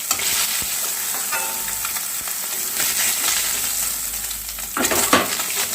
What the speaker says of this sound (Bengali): বাকি মাছটা আমি এভাবে ভাজা করে নিচ্ছি